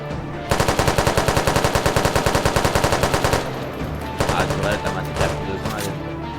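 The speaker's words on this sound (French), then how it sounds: "tu vas vraiment aller par là, il y a une tourelle automatique." Automatic turret fire in an SCP site roleplay video game: a loud, rapid burst of machine-gun shots runs for about three seconds, then gives way to scattered impacts and softer game noise.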